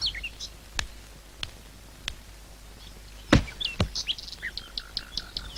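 A yellow parakeet gives a run of short, sharp chirps and tweets outdoors, scattered and fairly faint, with a couple of brief clicks and knocks in between and no voices.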